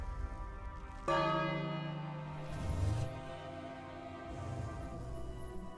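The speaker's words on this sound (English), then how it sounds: "Dinner bell." A dinner bell in the King's Quest video game clangs with one loud, sudden strike, then rings out in long metallic overtones, with softer follow-up tolls as it fades, heard alone without talk.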